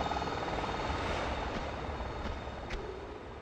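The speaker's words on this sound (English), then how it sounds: "The helicopter is flying off." A helicopter flying off in Tomb Raider 2 on the Great Wall of China level, heard as a steady broadband engine roar that slowly fades.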